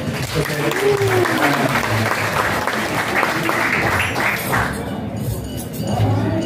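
A crowd applauds at a 50th birthday celebration in an event venue, steady dense clapping lasting several seconds with background murmur and a voice briefly over it, then tapering off.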